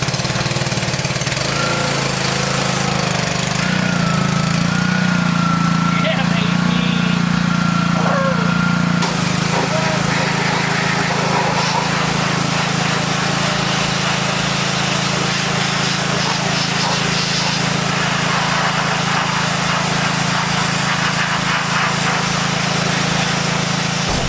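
A Sears Custom 10XL small gasoline engine, choked for starting, runs steadily outdoors with a loud, continuous buzzing drone; a voice speaks briefly over it early on, after which the engine note shifts and carries on alone.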